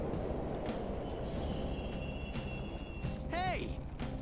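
A subway train in the video game Persona 5 rumbles steadily, with regular clacks of the wheels, a thin metallic whine and a brief rising squeal. Voices murmur faintly beneath it.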